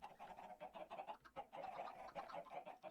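Video-game chickens in a small chicken farm cluck continuously in overlapping, rhythmic bursts, a busy flock chorus at moderate distance, fairly quiet and alone without talk.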